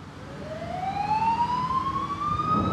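An emergency vehicle siren wails upward in a single long rising sweep, loud and close, over the rumble of traffic.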